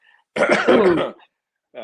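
A single rough burst of throat clearing, close and fairly loud, lasting under a second, followed by a short pause before a voice begins.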